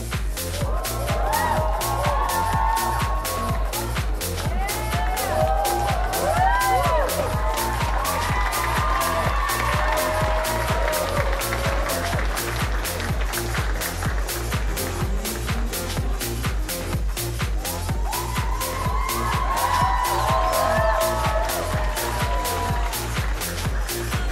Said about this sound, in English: one more big round of applause for QB